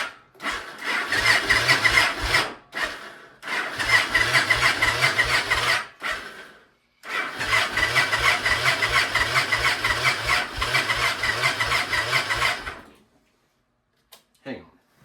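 A Victory motorcycle that has sat unused for years cranks repeatedly with a loud, rhythmic starter churn in three long bursts, each stopping without the engine catching.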